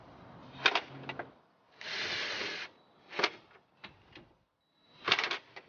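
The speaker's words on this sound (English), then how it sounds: "I'm going to put the 4 screws in here" Small 7mm screws being driven into a GM Hummer dash cluster, a handful of separate close clicking and rattling bursts with quiet gaps between them.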